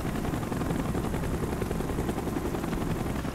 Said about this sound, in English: Is it really this easy to hide from helicopters?